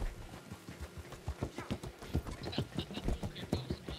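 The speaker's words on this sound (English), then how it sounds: "Here comes the donkey posse." Donkeys trotting in the Western game Red Dead Redemption 2, quick overlapping hoof clip-clops in a busy irregular rhythm, fairly close, with low voices faintly underneath.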